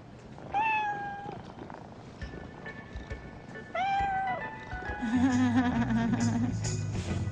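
Two cats meow loudly and close by in a cat-treat commercial, each a drawn-out, rising then falling cry. A lower, rougher cat vocalization follows and continues to the end.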